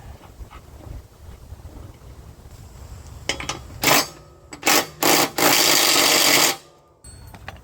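Metal-on-metal clinks and scrapes as a nut is threaded by hand onto a John Deere riding mower's spring-loaded blade pulley, then a few sharp broadband bursts and a sustained loud rasp near the end; no talk.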